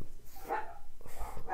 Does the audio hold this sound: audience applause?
no